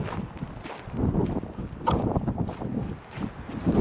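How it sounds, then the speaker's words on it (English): Breezy-day wind outdoors beside a gravel driveway, buffeting the microphone with a steady, loud rushing roar that swells and dips without pause. "Or for the wind, it's been a breezy day."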